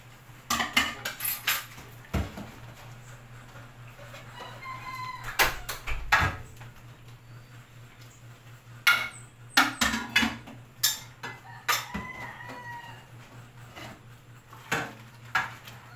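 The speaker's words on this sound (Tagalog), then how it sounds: "Maghugas na ako ng pinggan." Dishes are washed by hand in a home kitchen, plates and cutlery clinking and clattering in scattered bursts over a steady low hum, with a rooster crowing faintly in the distance.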